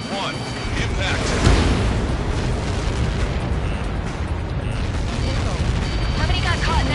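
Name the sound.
explosion in the video game Ace Combat 7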